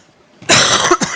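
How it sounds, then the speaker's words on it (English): A single loud cough, close to a microphone, starting partway through and followed by a shorter second burst, with quiet room tone before it and no talking. "Sorry about coughing into the mic."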